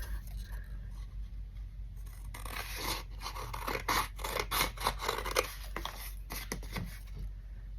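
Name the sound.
scissors cutting paper for a junk journal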